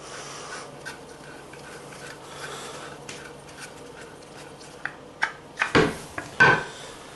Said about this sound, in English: and then we're going to hand tighten it